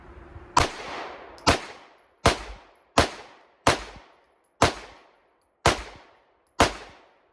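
Eight sharp pistol shots from a Sig Sauer M17 (P320) fitted with a Cyelee Ghost HDG, fired one at a time at a steady, slightly uneven pace at an outdoor range, each crack loud and close with a brief ringing tail.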